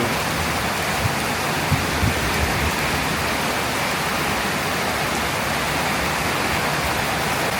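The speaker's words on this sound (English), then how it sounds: "Wow, little bonus storm." A rainstorm during Thailand's rainy season pours down in a dense, unbroken hiss of rainfall, steady and fairly loud throughout, with only faint scattered patters standing out.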